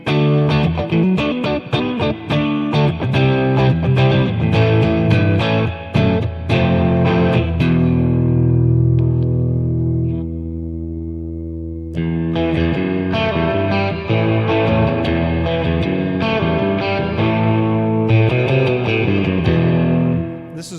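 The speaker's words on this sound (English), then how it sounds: "That's actually the reverb happening through the springs." Electric guitar chords ring through a Boss Katana amp, the notes trailing into a springy, slightly metallic spring reverb wash during a sustained pause before playing resumes.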